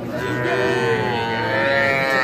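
A young calf at a cattle market gives a long, loud, steady moo that fills the moment alone, without speech over it.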